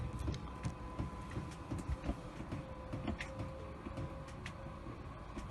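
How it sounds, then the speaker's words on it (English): Motorized jacking legs on a 2019 Lunar Alaria caravan retracting, a low steady mechanical whir and hum with faint rattling, fairly quiet and continuous, no talking. "straight away you can hear the legs retracting"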